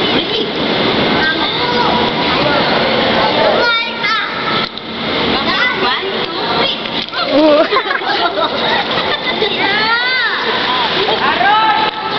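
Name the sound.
water splashing as baby jumps into pool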